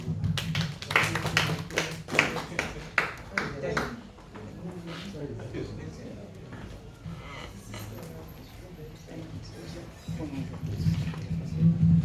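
At a Nigerian Independence Day symposium, a round of applause breaks out in the first few seconds with sharp claps close by, then thins to scattered clapping under speech and murmuring before swelling again near the end.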